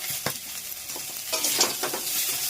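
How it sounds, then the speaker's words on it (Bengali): Broad beans are stir-fried in a pan with salt and turmeric, giving a brief burst of close sizzling with a few quick spatula scrapes and no voices. "এটা কষাতে হবে নুন হলুদ দিয়ে"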